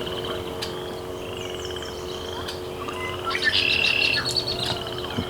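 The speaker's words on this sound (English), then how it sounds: "It's chorus frogs singing around me." Chorus frogs call steadily in the background from lakeside reeds, with red-winged blackbird chirps mixed in that grow louder near the end.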